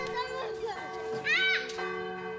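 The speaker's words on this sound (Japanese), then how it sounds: "行く先々で時を知らせる鐘が鳴り響きます" Church bells ring in Saarbrücken, a German town on the Saar river near the French border, their sustained tones ringing out beneath nearby voices and children's chatter.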